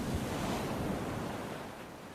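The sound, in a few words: ocean waves crashing on the shore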